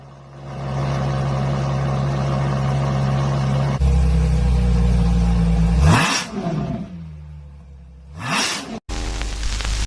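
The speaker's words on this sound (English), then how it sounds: "LaFerrari sound check." A LaFerrari engine revs loudly, first a steady, powerful idle-like roar, then sharp rising revs that snap and drop away, followed by another quick rev burst and a renewed roar.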